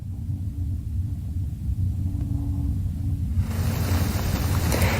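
Rocket Lab Electron rocket engines roar during ascent on the NROL-199 mission from Launch Complex 1B in New Zealand, a steady low distant rumble with wind buffeting that turns brighter and hissier partway through.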